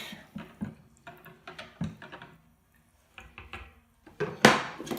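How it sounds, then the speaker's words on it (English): Quick stirring of a hydroponic nutrient solution in a Kratky garden container just after a small squirt of acid: a run of close, light clinks and knocks in short bursts, ending in a louder, busier rattle. "Give a quick mix and check."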